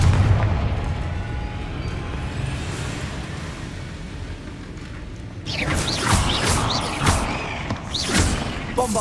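Confringo fire spells in Hogwarts Legacy go off as a low rumbling ambience, then erupt into a cluster of loud, crackling fiery blasts in quick succession near the end.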